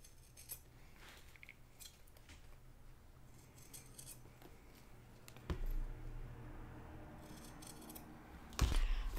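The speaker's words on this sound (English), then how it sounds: "We're just going to take our scissors and trim that even with the zipper." Quiet scissor snips and faint rustling as scissors trim fabric even with a zipper, with a couple of louder clicks or thuds toward the end.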